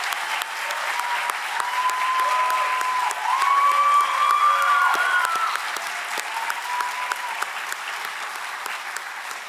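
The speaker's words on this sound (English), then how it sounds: "I want you to give a round of applause to these Making an Exoneree team members." Sustained applause at a university showcase for exoneree team members, a large crowd clapping steadily with scattered whoops and cheers rising in the middle before the clapping fades slightly toward the end.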